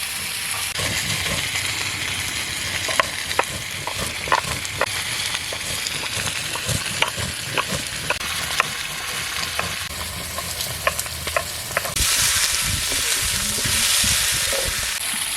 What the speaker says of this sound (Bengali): এই মশলা ভাজার স্বাদটা এত সুন্দর ভুলভুল করে সেন্ট বার হচ্ছে